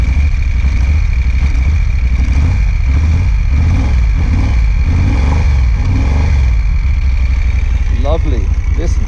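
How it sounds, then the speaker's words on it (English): A transverse V-twin motorcycle engine idles close by, a loud, steady, lumpy throb with mechanical clatter underneath, while a voice briefly speaks near the end. "being that it's a transverse V-twin, you can hear the mechanical sounds"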